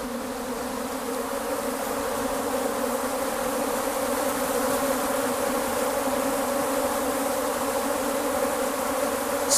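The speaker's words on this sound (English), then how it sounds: "You see how agitated the bees get. These are angry Africanized bees." A dense, steady swarm of agitated Africanized bees buzzes loudly and continuously, a constant droning hum with no pauses, close by and alone without talk.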